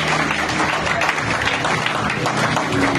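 Congregation at a church service applauding in a dense, steady wash of clapping that fills the whole stretch at even loudness, with no one speaking over it.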